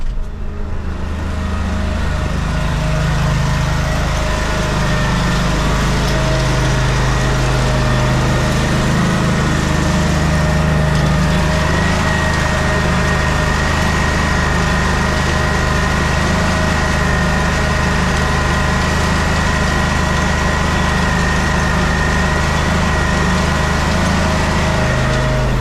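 A Peterbilt snow plow truck engine runs steadily after being cranked up, a loud, continuous droning rumble with a constant tone that holds unchanged throughout.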